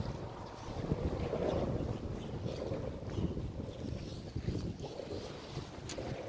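A breeze blows at the shore by the pass in Orange Beach, Alabama, on a chilly, quiet morning, heard as a soft, continuous low rumble of wind buffeting the microphone.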